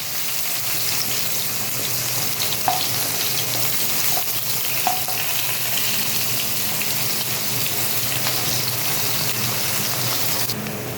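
Chopped onion fries in hot oil with a loud, constant sizzle and crackle, and a couple of faint spoon clicks rise above the steady hiss.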